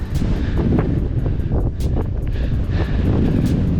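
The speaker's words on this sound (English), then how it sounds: "Super windy." Strong wind roars steadily against the microphone on a mountain ridge on Oahu, a constant low buffeting rush with faint rustling on top.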